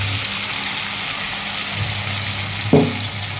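Steady, close sizzle of spice paste frying in hot oil with potatoes for a Bengali katla fish curry, a continuous hiss with a brief louder scrape of stirring near the end.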